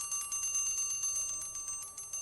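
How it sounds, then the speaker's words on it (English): An electric bell rings inside a glass bell jar during a classroom vacuum-pump demonstration, its hammer striking the gong in a rapid continuous metallic trill, thin and fairly faint. "We can also see the hammer striking the gong repeatedly."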